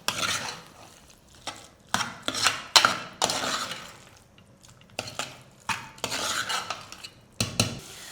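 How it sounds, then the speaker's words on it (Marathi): Potatoes being sautéed after salting for a green-paste potato curry: repeated scraping and clattering of a spatula against a pan in irregular bursts, close and fairly loud. "आता याला दोन मिनटांसाठी चांगलं परतून घ्यायचं आहे"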